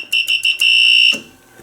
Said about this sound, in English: If you press the alarm, it rings like it rings the fire service buzzer, which is like a fire alarm.